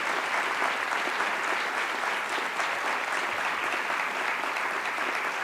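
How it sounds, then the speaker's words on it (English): Steady, sustained audience applause fills the hall evenly from start to finish, dense clapping without a break at a conference honoring student presenters. "if we could have a round of applause for our student distinguished"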